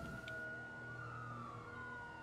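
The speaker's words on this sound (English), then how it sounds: "These sirens sound great." Police car sirens in the GTA 5 LSPDFR video game: a steady electronic siren wail sweeping in pitch over a low engine and road drone, fairly faint and with no talk.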